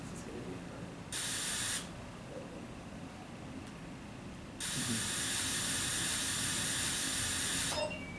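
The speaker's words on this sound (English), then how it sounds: "Press the S button down to spray the wall" An aerosol spray can spraying a wall in an interactive training module lets out two hissing bursts, a short one and then a longer sustained spray, loud and close over a quiet background.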